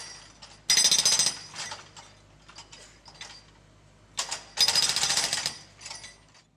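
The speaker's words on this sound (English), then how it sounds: "The digger uses the breaker to hammer into the concrete footpath." A hydraulic breaker on a digger hammers into a concrete footpath in two loud bursts of rapid pounding, separated by quieter clanks and scraping of the machinery.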